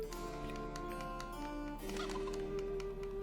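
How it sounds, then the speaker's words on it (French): A chicken in the Evoland 2 video game gives tonal, repeated game-style clucks and calls over a steady musical background, clear and close with no talking. "Un poulet."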